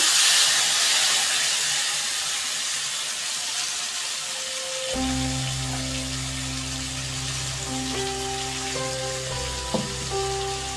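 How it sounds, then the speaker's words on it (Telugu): Tomato paste fried in a pan in a home kitchen, sizzling and hissing steadily and close by, with a tonal hum that sets in partway through. "ఇప్పుడు మనము ముందుగా మిక్సీకి వేయబడిన టమోటా పేస్ట్ను వేసుకుంటున్నాను"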